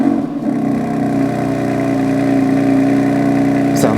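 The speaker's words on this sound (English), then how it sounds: "Let's have a little listen to that exhaust." BMW M4 with a full titanium exhaust system running loudly up close, a steady droning rev with a dense tonal rumble that holds throughout.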